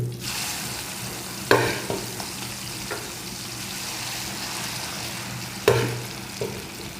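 Bitter gourd frying in plenty of hot oil in a wok gives a continuous sizzle, broken by two sharp clatters of a utensil against the pan, with no talking.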